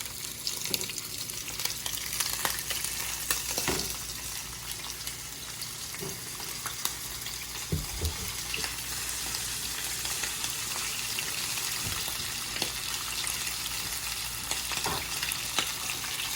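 Breaded catfish coated in panko and regular breadcrumbs frying in olive oil in a skillet, a steady dense sizzle up close with occasional louder pops and clatters of handling.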